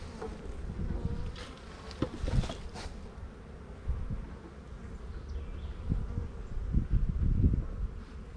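Dense, rumbling buzz of a crowd of honeybees around an opened hive while the queen is on a frame. The swarm hum stays close and continuous, swelling now and then, with no speech.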